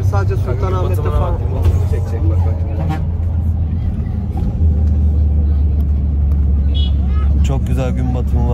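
Steady low engine rumble inside a sleeper bus on a journey through Vietnam, loud and continuous throughout, with people talking over it.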